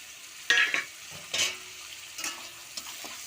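Spice masala of cumin, coriander, chilli powder and a little sugar being stirred and fried in a pan for Bengali fish curry, with intermittent scraping stirs and soft sizzle bursts, close and fairly quiet.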